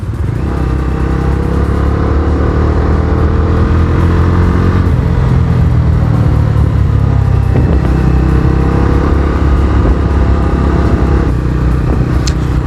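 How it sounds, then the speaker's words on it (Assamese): A 2022 Bajaj Dominar 250 BS6 motorcycle with a 250cc engine is ridden on the road, its engine a loud, steady drone mixed with wind rush and slight changes in pitch as it pulls along. "এই বাইকখন চলাই আছোঁ বৰ্তমান ডমিনাৰ 250 BS6 হয় 2022 মডেল।"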